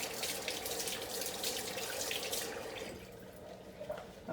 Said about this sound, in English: Got to wash my hand here.